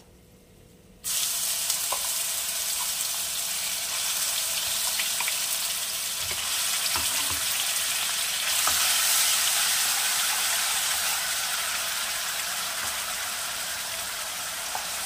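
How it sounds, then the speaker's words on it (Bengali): Ginger garlic paste sizzles steadily in a hot pan over spiced oil after a sudden start, with a constant bright frying hiss and occasional faint clinks, no voices. "আদা রসুন বাটা আমি কড়া করে ভাজবো না, জাস্ট কাঁচা গন্ধটা যাবে সেই মতন ভাজবো।"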